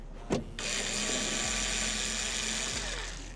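Power tool whirring steadily while unscrewing fasteners on a Chevrolet Cruze window regulator, a short clack and then a sustained close mechanical buzz with ratcheting texture, no talk.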